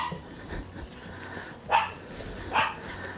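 A dog barks at its own shadow in a backyard herb garden, two short, fairly distant barks about a second apart over quiet background rustle.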